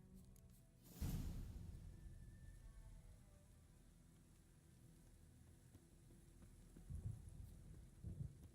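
A thunderstorm in the video game Witcher 3, where a sharp thunderclap breaks over steady rainfall and low rumbles of thunder return later, all fairly faint.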